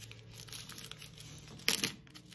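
Paper is handled close by with soft rustles, then one sharper crinkle as it is creased and folded, quiet overall.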